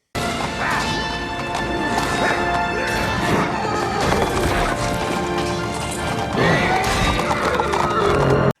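Horses in a film scene neigh and whinny loudly over dense galloping hooves, crashes and swelling orchestral music, a continuous full-volume battle soundtrack.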